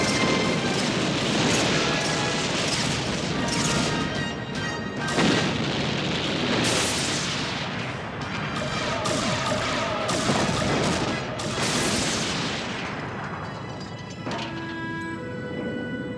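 An animated space fleet opens fire on pirate bases, producing dense, continuous booming explosions and rapid weapon blasts with sweeping laser-like tones, loud and relentless throughout with no speech.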